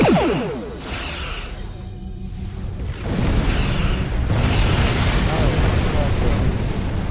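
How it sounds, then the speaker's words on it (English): A tachyon beam fires in the space game Star Trek Online: a whooshing burst followed by a heavy, rumbling blast that swells and keeps roaring loudly to the end. "fire the tachyon beam"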